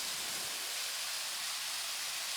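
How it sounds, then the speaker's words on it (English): Virgin Falls in Tennessee pours in a steady, dense hiss of rushing water, broad and continuous with no voices over it. "There's the falls right there."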